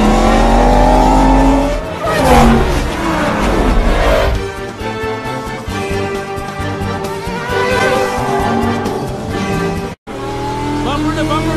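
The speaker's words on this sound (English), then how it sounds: "Racers are now making their way around the hairpin and headed downhill toward the casino bridge." Animated race cars from Cars speeding downhill through a hairpin toward a casino bridge, loud roaring engines and whooshing passes with tire noise and a brief dropout, under excited race commentary.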